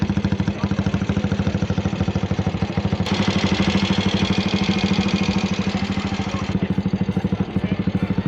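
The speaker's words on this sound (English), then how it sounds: "Moto 3 bike sounds so freaking cool." A Moto3 racing motorcycle engine idles at the Circuit of the Americas, a close, loud, rapid pulsing drone with steady rhythmic beats that swells briefly midway, with no talking over it.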